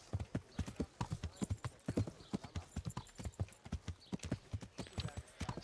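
Horse hooves clip-clopping in a steady, rapid rhythm as a rider crosses a bridge in the video game Kingdom Come: Deliverance, close and fairly loud throughout with no talk.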